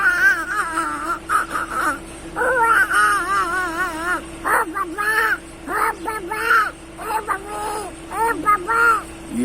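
A man imitates a crying baby with his voice, producing wavering, whiny wails in repeated bursts that stay loud and close throughout.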